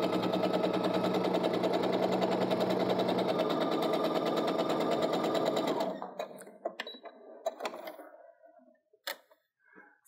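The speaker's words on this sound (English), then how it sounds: "line it up again so that the edge of my presser foot is even with that line, and sew down this side" An electric sewing machine runs a quilting seam a scant quarter inch from a drawn line, whirring steadily and evenly for several seconds before stopping, followed by a few quiet clicks and handling sounds.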